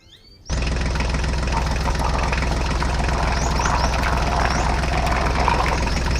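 A mini tractor's engine runs steadily and loudly after a brief quiet start, with a constant low rumble and rattle and faint chirps above it.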